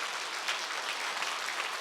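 Church congregation applauding during a sermon, a continuous wash of many hands clapping, moderately distant and soft, with no speech on top.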